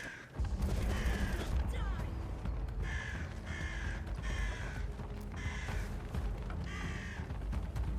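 In the video game Atomfall, a crow shut in a box as an alarm caws harshly five or six times in a steady rhythm over a constant rumbling, noisy background.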